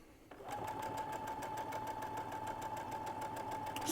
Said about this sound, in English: So again, just sewing those edges